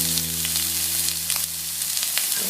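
A thin beef mini steak sizzles loudly and steadily in a hot pan. A low electrical hum runs underneath, and small pops and crackles come through over the continuous frying, with no voices.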